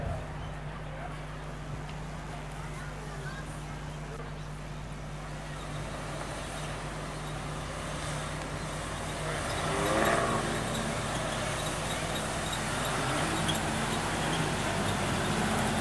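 Fender bender race cars at Rockhampton Speedway drone as a distant pack, a steady engine hum with a faint swell partway through, heard over a constant background rumble.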